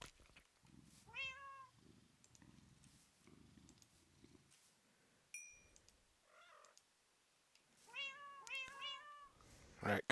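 A kitten in the video game Minecraft gives several short, high meows in small bursts, with low purring between them and a few soft thuds.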